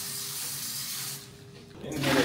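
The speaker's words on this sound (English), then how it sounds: "I'm gonna refill them up with some water." Tap water runs into a pot of potatoes, a close steady rush that dips briefly, then swells louder as the pot fills; no talking.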